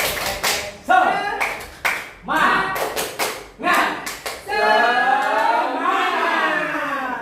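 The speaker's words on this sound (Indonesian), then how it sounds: "Tepuk semangat." A group of adults standing in a room does a rhythmic spirit clap, crisp claps in syncopated clusters punctuated by loud group chanting that swells into a sustained shout.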